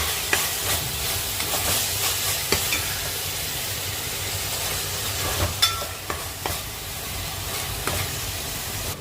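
Tomato paste sizzles and hisses in hot oil for a curry of eggs and prawns, a steady crackling fry close by, with a few sharp clicks of stirring utensils.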